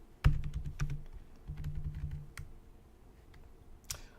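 Typing on a computer keyboard at a desk, with bursts of quick, close clicking keystrokes separated by short pauses and one sharp clack near the end; no talking.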